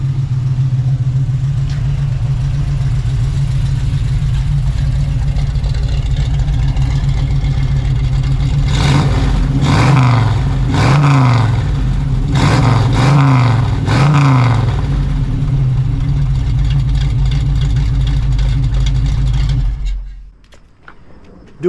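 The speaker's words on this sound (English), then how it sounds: "It's got an awesome sounding dual exhaust, nice throaty sound to it" A 1971 Chevrolet Nova SS with a built 350 V8 rumbles steadily through dual exhaust, a deep throaty idle punctuated midway by several sharp revs in quick succession before settling back, then cutting off near the end.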